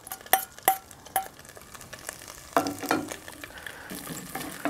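Onions and garlic dropped into a very hot Dutch oven, sharp metallic clanks and scrapes at first, then a building crackling sizzle, close and fairly quiet with no talking.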